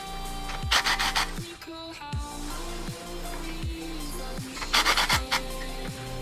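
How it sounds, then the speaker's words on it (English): Eastwood fender roller working a car fender lip, a repeated grinding, rasping roll with rhythmic strokes and bursts of louder scraping, close and fairly steady over a low hum. "we are going to attempt to roll this last fender here and see how it goes"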